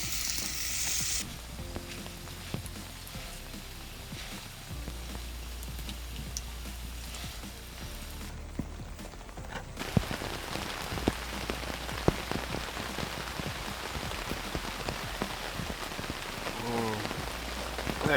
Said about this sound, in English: I'm gonna start with some French fries